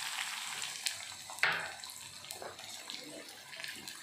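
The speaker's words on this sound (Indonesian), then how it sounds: "yang pertama digoreng bawang dulu ya, bawang merahnya" Sliced shallots frying in a pan for Padang-style gulai cincang, a steady soft sizzle and crackle close up with occasional stirring clinks, fairly quiet throughout.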